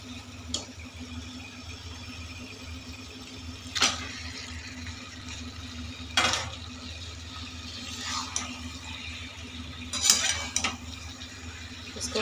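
Potatoes fry in masala in a pan beneath a low, steady sizzle, punctuated every few seconds by the clatter of a spoon stirring against the pan.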